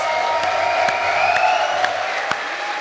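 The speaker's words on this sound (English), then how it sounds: "But once again, a round of applause for Liry, your victor of the series." Sustained applause from a crowd at an Age of Empires II LAN tournament, steady clapping with a few louder claps standing out, continuous throughout.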